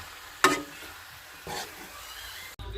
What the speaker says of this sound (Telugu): లో ఫ్లేమ్లో ఉంచి నెమ్మదిగా ముక్కల్ని కలపండి